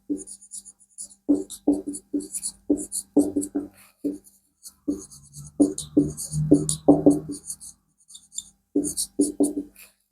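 Chalk or pen writing out a physics equation by hand on a board, a close series of short scratchy strokes and taps in irregular bursts with brief pauses between.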